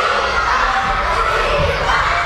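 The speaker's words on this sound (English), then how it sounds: "screams at the top of their little lungs" Elementary school children scream and cheer together at lunchtime, a dense, loud, continuous roar of young voices filling the room without a break.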